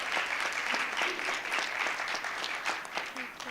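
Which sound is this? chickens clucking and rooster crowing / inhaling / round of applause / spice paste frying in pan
round of applause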